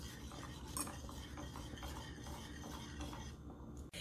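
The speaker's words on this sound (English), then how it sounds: "You want to take your whisk and gently whisk the grits around." A whisk scrapes and swishes continuously through cheese grits in a pot, a soft, steady stirring rhythm with a few brighter metallic clinks and no voices.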